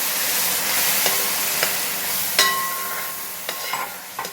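Tamarind water poured into sautéed masala for a traditional Kerala fish curry, then stirred: a steady sizzling hiss with several sharp scraping stir clicks scattered through, close and fairly loud, no talking.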